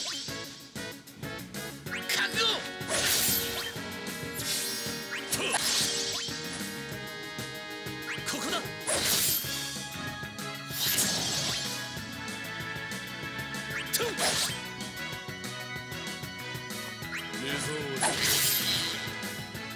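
Combat hits land on a boss in Dissidia Final Fantasy Opera Omnia, a string of sharp crashing and whooshing impacts every few seconds over game music.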